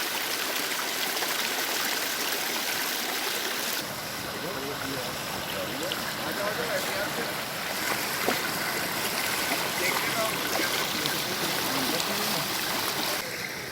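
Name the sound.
rushing stream of rainwater coming down from the mountains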